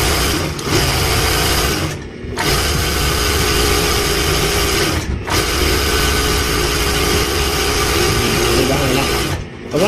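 A Siruba flatlock sewing machine, one with a broken-stitch and power fault, runs loud and steady in long continuous bursts, whirring and rattling with brief stops between runs.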